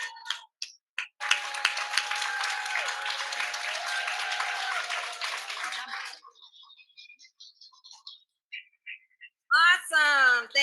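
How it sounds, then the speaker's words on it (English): An audience at a product symposium claps in a sustained round of applause lasting several seconds, then it fades out, leaving sparse scattered claps and brief voices. "A round of applause."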